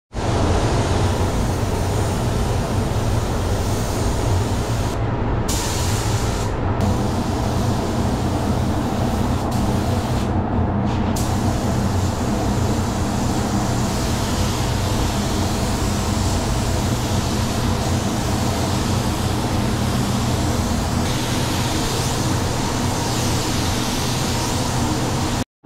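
A paint spray gun lays a second coat of white paint on the front bumper of a Hyundai HB20, a continuous close airy hiss running for nearly half a minute. It is broken by a few short pauses.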